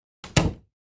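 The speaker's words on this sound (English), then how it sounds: "I heard the front door open" A front door swings shut with a single solid thunk, close and clear, preceded by a brief softer rustle of the door moving.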